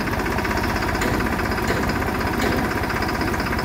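Diesel engine of a New Holland A5 tractor running steadily at idle, a continuous mid-pitched knocking rumble with a fast rattling pulse, close and unbroken throughout.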